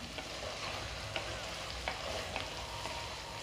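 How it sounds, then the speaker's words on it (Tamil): Tomatoes sautéing in a pan for a sundakkai thokku, a steady close sizzle with a few soft scrapes of stirring running the whole time and no voices. "சேர்த்து நல்லா தக்காளியை வதக்கிக்கிறலாம் தக்காளி கரையிற அளவுக்கு வதங்கட்டும்"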